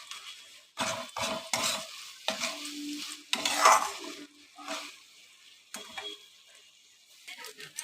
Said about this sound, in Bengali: দেখো আমি ভালো করে নেড়ে নিচ্ছি।